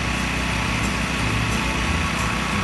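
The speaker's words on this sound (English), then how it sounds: "Yeah, so we got the generator going." A portable generator runs steadily at a remote Alaska cabin deck build, a constant close engine drone with a buzzing high-pitched tone, alone with no talk.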